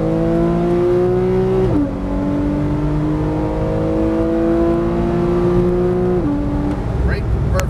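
A Porsche 991 Carrera S from 2012 pulls hard on a race track, its engine note climbing steadily through two sharp upshifts, loud and close throughout.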